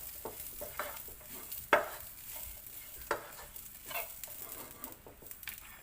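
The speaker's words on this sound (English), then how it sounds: "our coconut and onion is roasting" Coconut and onion roast over a low flame in a pan, giving a faint, even sizzle broken by occasional scraping stir strokes and a sharper tap or two against the pan.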